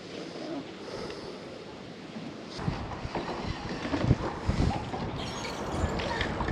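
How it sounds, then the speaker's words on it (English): Wind gusting across a lake during bass fishing from a boat, a steady broadband rush with buffeting microphone noise that grows louder and rougher in the second half, with water lapping underneath. "It's pretty windy."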